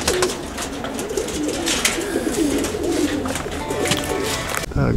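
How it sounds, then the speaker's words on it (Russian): Pigeons coo in a continuous low murmur, broken by flapping wing bursts and rustles nearby, until the sound cuts off abruptly at the end. "В горе летают голуби"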